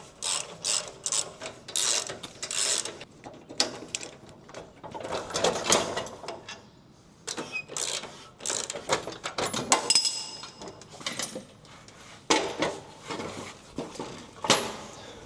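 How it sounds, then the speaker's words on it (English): A hand ratchet clicks in repeated quick bursts while bolts are undone to remove a rear-end assembly, near and fairly loud, with short pauses between runs. "I'm gonna unbolt these and get this whole thing off of here."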